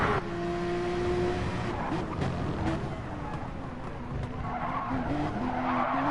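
A Porsche Cup race car skidding into the pit lane at Bathurst in Gran Turismo Sport, with sustained screeching tire squeal over a droning engine roar, loud and close, the squeal wavering and returning near the end.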